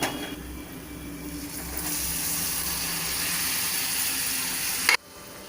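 Chopped tomatoes fry against golden-brown onions for a Punjabi dhaba-style rajma masala, giving a steady close sizzle that swells and then cuts off abruptly.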